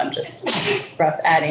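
A single sharp sneeze during a government health care committee meeting, followed by someone speaking.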